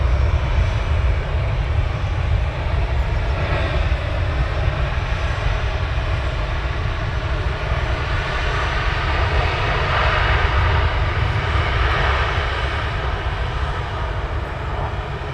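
An Etihad Boeing 787 Dreamliner at Manchester Airport gives a steady, loud, continuous engine roar that holds for the whole stretch, broadband and unbroken, with no talk.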